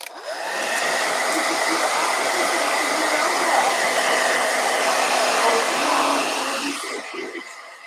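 A blow dryer aimed at wet paint runs with a loud, steady whirring hum for about six seconds, switching on near the start and cutting off near the end.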